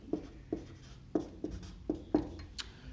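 Marker or chalk tapping and stroking on a classroom board during a chemistry lesson, a series of short, evenly spaced taps with a final scratchy stroke, faint and close, no talk over it.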